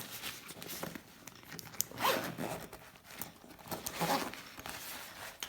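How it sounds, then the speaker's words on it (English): A YKK zipper pulled open along a Manfrotto Holster XS camera case, a close, scratchy ripping rasp in two main strokes with brief pauses, heard alone. "We unzip that."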